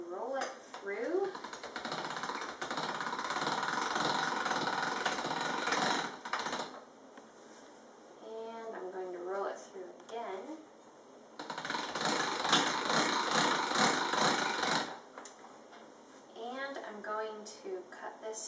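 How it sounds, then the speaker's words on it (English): A hand-cranked pasta machine set on its thickest setting rolls sourdough whole wheat noodle dough, giving two long stretches of steady rumbling, clicking mechanical noise, with a person talking in between and over it. "Now I have a pasta machine that I've set on 1, and I'm going to roll it through."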